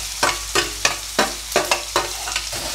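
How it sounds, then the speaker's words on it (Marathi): Chopped onion sauteing with cumin and mustard seeds, a steady sizzle punctuated by about seven rhythmic spatula scrapes against the pan, close and evenly spaced. "आता हा चिरलेला कांदा यामध्ये टाकून चांगला परतून घ्यायचा आहे।"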